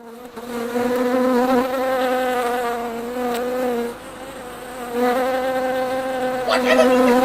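A kazoo buzzes steadily and loudly up close, imitating a swarm of bees, with a continuous nasal drone that dips slightly in the middle and swells again toward the end.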